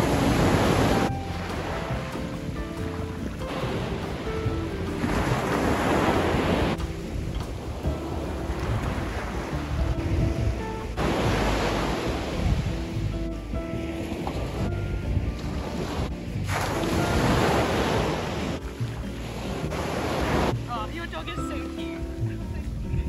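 Sea waves wash and surge on a beach, rising and falling in repeated swells with broad roar, mixed with wind buffeting the microphone.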